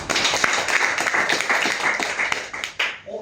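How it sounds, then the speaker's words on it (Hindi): A seated audience at a talk claps loudly and continuously, a dense, close wash of many hands that fades near the end. "सभी अपना आप पर जोरदार ताली"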